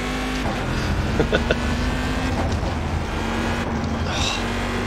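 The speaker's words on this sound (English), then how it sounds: "I love the sound of this car" A steady, loud GT1 race car engine in the iRacing video game drones continuously, with a sustained hum and slight pitch shifts, like a car at speed on a track.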